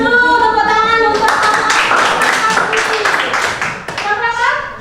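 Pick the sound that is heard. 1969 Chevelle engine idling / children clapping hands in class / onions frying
children clapping hands in class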